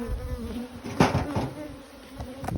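Honeybees buzzing at a beehive, a close, steady insect drone with a few brief knocks and bumps mixed in, no speech.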